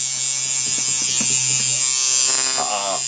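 A light tattoo machine with a built-in clip cord runs with a loud, steady close-up electric buzz throughout, while someone talks over it.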